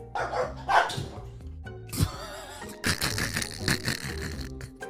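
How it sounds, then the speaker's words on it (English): A puppy barks close by in a quick run of sharp, high yips and barks, with brief pauses and some rattling noise between them. "he was laughing at Kaya as a puppy being abused by Fiona."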